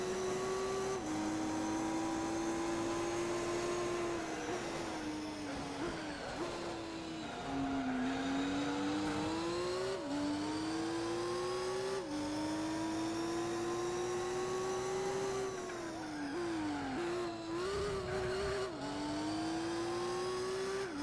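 Racing car engines whine and rev continuously, pitch rising through gears and dropping on shifts, with brief tire squeals, loud and sustained throughout.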